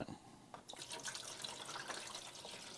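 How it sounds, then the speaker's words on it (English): Water pours steadily from a container into an indoor hydroponic garden unit, a continuous close splashing trickle that runs on without a break. "Now I'll put 4 more liters in."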